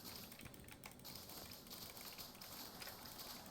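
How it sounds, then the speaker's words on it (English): Rain falls in the Minecraft video game as a faint, steady patter with no one talking over it. "And it's raining."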